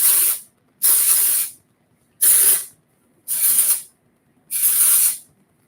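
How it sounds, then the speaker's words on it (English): Dry shampoo sprays onto the roots of curly hair in five separate hissing bursts, each about half a second to a second long, loud and close with short silences between them. "So I'm just going to spray this all over my kind of like root area."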